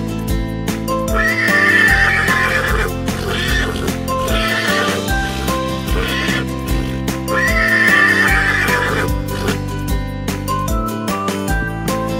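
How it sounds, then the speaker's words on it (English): A horse whinnies with a trailing neigh while hooves clip-clop steadily, set over a continuous musical backing, loud and close throughout. "Horse. H O R S E."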